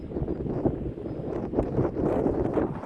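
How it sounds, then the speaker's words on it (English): Strong gusting wind buffeting the microphone outdoors on an extremely windy day of golf, a dense low rumble that swells and surges continuously. "That's a crazy wind here."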